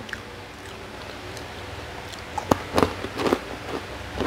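Homemade crunchy cheese sticks made from three ingredients are bitten, giving a few sharp, crisp crunches close up in the second half after a quiet start.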